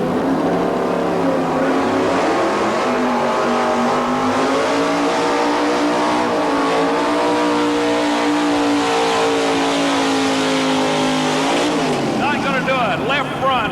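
A 4x4 truck competing in a 1987 truck pulling event in Louisville, Kentucky roars continuously at high revs, its loud engine note rising and falling and climbing sharply near the end, with an announcer talking over it.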